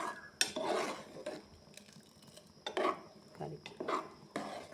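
Green gram curry stirred in a pot, a few distinct clinks and scrapes of a spoon against metal at irregular intervals, close and fairly quiet.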